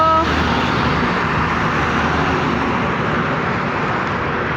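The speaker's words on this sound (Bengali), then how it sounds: "এই রাস্তা হাই রুট, অনেক গাড়ি।" Dense, loud traffic roars past on a busy highway, a continuous wash of engine and tire noise close by, with a brief horn-like tone at the very start and no talking.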